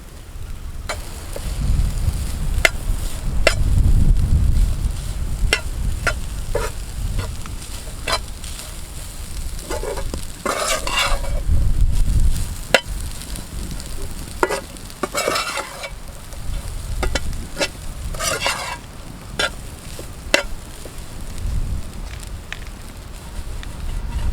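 Samosa filling with cut tender coconut stirred in a hot pan: a continuous close sizzle with repeated scraping strokes of the spoon against the pan, plus brief sharp clicks, steady and unbroken for the whole stretch.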